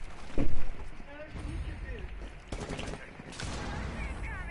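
Bursts of gunfire from the video game Rainbow Six Siege crackle in rapid clusters beneath a person talking, with a louder shot near the start and game noise continuing behind the voice.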